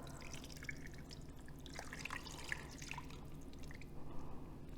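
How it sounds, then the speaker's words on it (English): Honey balsamic sauce is poured over a browned pot roast in a crock pot, giving faint, continuous liquid trickling and dripping with soft splashes under low background hiss. "now I'm just going to pour our sauce over the top"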